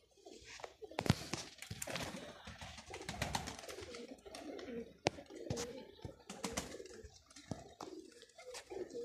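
Low cooing from pigeons mixed with wing flaps, scratches and sharp knocks, fairly close, with some muffled voices in the background.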